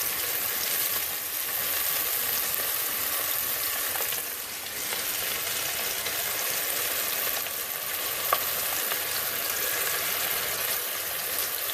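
Onion rings frying in a really hot pot of oil give a loud, steady, dense sizzle that runs unbroken from start to finish, with no voices over it.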